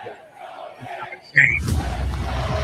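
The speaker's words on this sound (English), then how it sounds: "Crowd trying to cheer." Arena crowd at a Knicks basketball game against the Spurs, a subdued murmur that swells abruptly into a loud, broad roar of cheering and attempted chanting, filling the space with dense crowd noise.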